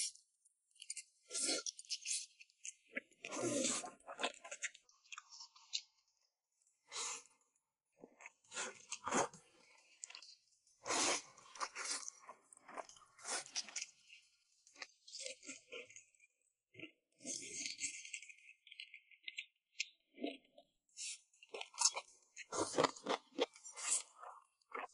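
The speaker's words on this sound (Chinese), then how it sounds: "这个芒果果肉还有点冻着，吃起来的口感就特别像那种冰沙" Close, crisp crunching and chewing of semi-frozen mango flesh, icy bites coming in irregular bursts with brief pauses, quiet otherwise and with no talk.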